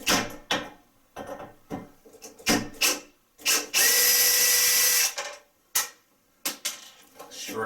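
A power tool removes a bolt holding a bathroom vanity to the wall: a series of short, close ratcheting and whirring bursts, then one sustained loud buzz of about a second before more brief clicks and spins.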